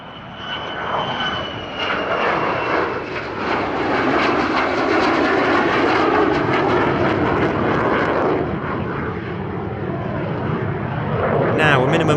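An F-35 fighter jet performs a dirty wing rock at an Australian airshow, its engine roar loud and continuous, swelling and holding for several seconds before easing slightly, with speech faintly underneath.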